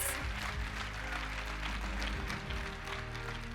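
Applause rises from the audience at a MICHELIN Guide award ceremony for Istanbul, İzmir and Bodrum as a green star is presented, a faint and distant wash of clapping that continues evenly.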